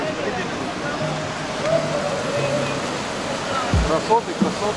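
A waterfall in Sochi rushes in a steady broadband wash close by, with people talking over it now and then.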